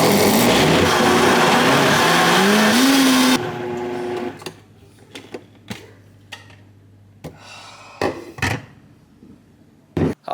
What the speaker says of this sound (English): time to blend this guy